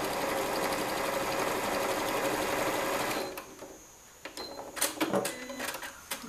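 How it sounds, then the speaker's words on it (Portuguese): A sewing machine stitching fabric in a continuous fast whir for about three seconds, then stopping, followed by close handling clicks and rustles of cloth. "E agora vocês vão deixar costurar até aquela outra marcaçãozinha."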